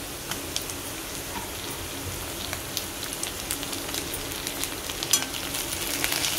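Onion and tomato sauté in a hot pan for shev bhaji, giving a steady, soft sizzle with occasional light stirring clicks and no voices.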